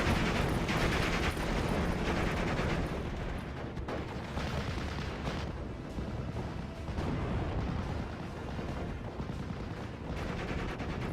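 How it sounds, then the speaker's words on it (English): Crocodile flame tank in a WWII strategy tournament match firing amid continuous battle noise, dense overlapping gunfire and explosions at steady loudness throughout, with no talk. "the Crocodile will fire its shot and destroy that whirlwind"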